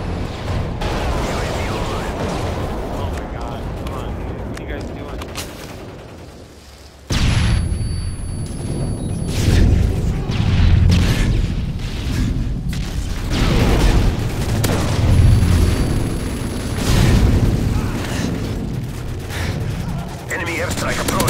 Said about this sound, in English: Airstrike approaching.